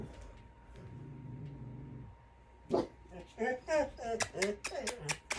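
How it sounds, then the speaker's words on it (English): A small dog barks repeatedly and sharply just outside a door, a burst of quick, loud yips and barks following a brief lull after a voice. "does her little barking skit outside the door"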